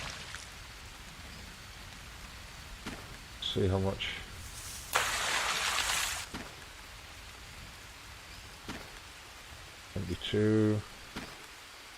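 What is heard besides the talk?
rain in the video game Green Hell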